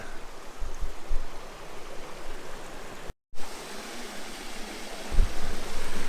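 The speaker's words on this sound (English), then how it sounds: "That's a really cool cascade there." Continuous rushing of creek water tumbling over a cascade near Crevice Falls, steady and close, with a short cut partway through and no voices.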